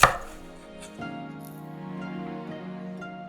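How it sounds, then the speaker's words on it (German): A knife cuts fresh ginger into thin slices for Chinese-style steamed salmon, opening with one sharp strike on the board and followed by faint, softer cutting sounds. "Ingwer in dünne Scheiben schneiden."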